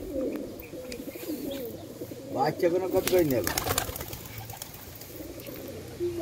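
Pigeons in a loft coo with low, rolling calls close by, overlapped partway through by a person speaking briefly, with some faint chirps and rustling in the background.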